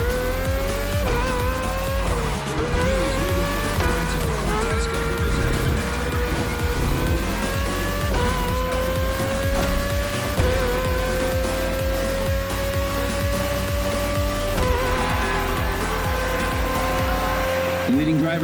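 Race cars in The Crew Motorfest roar continuously on a coastal circuit past a marina, their sustained engine drones rising and shifting through gear changes, with tire noise and a commentator's voice layered over the racing.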